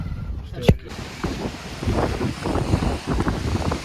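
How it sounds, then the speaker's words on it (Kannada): Strong wind buffeting the microphone in loud, gusting roars, with a sharp bump early on. "ನಾನು ಏನೇ ಮಾತಾಡಿದ್ರು ಕ್ಯಾನ್ಸಲ್ ಯಾಕಂದ್ರೆ ಫುಲ್ಲು ಗಾಳಿ ಇದೆ"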